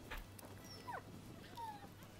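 Soft whines and whimpers from a dog in the samurai video game Rise of the Ronin, faint and brief over steady game ambience and music.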